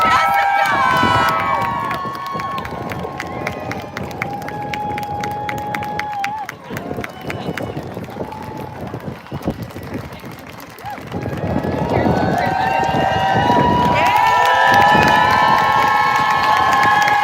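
Crowd cheering and shouting at a public education rally at the Michigan State Capitol, with a loud, sustained roar that dips midway and swells again, mixed with children's shouts.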